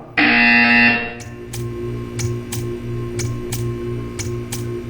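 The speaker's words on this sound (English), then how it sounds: "You will hear a buzzer." Loud electronic buzzer in the video game Portal 2 blares for about a second, then quieter rhythmic ticking pulses repeat steadily over a low hum.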